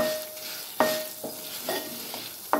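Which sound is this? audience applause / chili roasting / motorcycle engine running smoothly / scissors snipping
chili roasting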